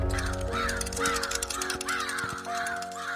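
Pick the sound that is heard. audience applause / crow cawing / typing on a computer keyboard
crow cawing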